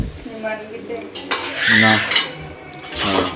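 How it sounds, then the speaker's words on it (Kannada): Pots and dishes clatter and clink as they are handled and washed in a home kitchen, with irregular metallic knocks and scraping up close. "ಕಡೆ ಪಾತ್ರೆ ಎಲ್ಲ ತೊಳ್ಕೊತ ಇದ್ದಾರೆ"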